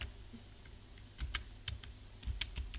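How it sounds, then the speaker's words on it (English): Computer keyboard arrow keys are pressed to steer a snake game, with quiet, irregular clicks and taps coming in small bursts. The background is otherwise near silent. "Now I can use the arrow keys to move the snake."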